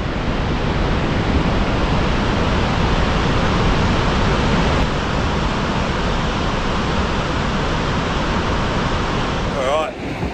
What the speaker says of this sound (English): Dartmouth Dam, overflowing